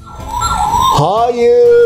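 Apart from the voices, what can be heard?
toy ambulance siren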